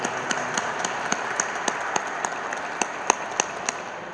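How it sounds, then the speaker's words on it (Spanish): Scattered applause from a congregation during a quinceañera Mass in a parish church, a soft steady patter of hands with distinct individual claps standing out at a regular pace, fairly distant and low in level. "Démosle un aplauso, por favor."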